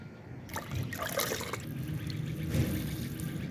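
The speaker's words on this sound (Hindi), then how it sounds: "पानी देता हूँ पौधों को।" Water trickles steadily while someone waters potted plants outdoors in the morning, a soft continuous pour close by with no talk over it.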